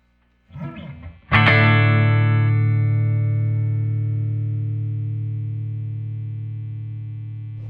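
An electric guitar played through an amp with effects: a brief scratchy string sound, then one strummed chord that rings out loud and slowly decays over several seconds, alone.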